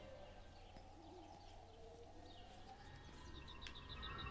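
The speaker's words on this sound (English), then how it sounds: "Oh, it's a pigeon." Pigeon cooing in the exploration game Everybody's Gone to the Rapture, soft repeated hooting coos over a low ambient drone, rising slightly toward the end with no voices.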